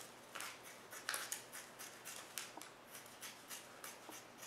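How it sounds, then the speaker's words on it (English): Small scissors snip fabric repeatedly in quick, uneven bursts, a crisp close-up cutting sound with faint background hiss. "I will just use these little scissors though."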